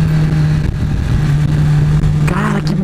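Honda CBR 1000 RR Fireblade sportbike from 2014 pulling hard under acceleration, a loud, steady engine drone that holds near and constant for the whole stretch, with a faint breathy whoosh of wind near the end.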